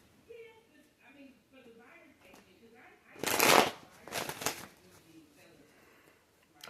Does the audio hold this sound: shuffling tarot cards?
yes